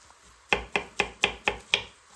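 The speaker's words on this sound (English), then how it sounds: "I'm just chopping up my sweet pepper now." A knife chops a sweet pepper steadily on a cutting board, about six sharp, evenly spaced thuds close by, with no talking.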